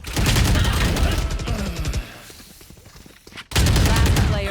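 Rapid automatic fire from a Spectre submachine gun in the Valorant shooter game, loud and close in sustained bursts, a brief lull, then another burst.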